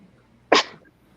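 A single sharp sneeze bursts out close and loud at mid-clip, ending in a brief breathy tail over quiet room tone during a live horse-racing betting stream.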